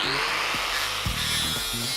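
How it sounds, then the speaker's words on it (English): Angle grinder fitted with a 36 grit ribbed pad grinds a weld off carbon steel, a steady loud buzzing whine running continuously throughout, with brief low thumps as the pad bites the metal. "So carbon steel, same process, removing a weld."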